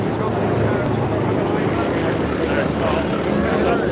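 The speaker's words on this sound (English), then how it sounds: "Oh, they've got the police helicopter up." A police helicopter flies overhead near the Britannia International Hotel, its rotor drone a loud, continuous low rumble filling the scene, with a person speaking over it.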